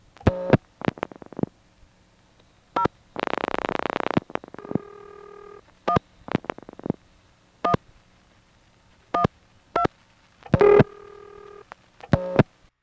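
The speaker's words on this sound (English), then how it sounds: "the director is on the line, splitting us from the called customer and still repeating every digit Ben dials" Dialing on a 1977 senderized step-by-step exchange line in Monroe, New York, with a director repeating each digit: a sequence of sharp clicks and short tonal bursts, plus one longer buzzy tone, recorded close and clear with no talking.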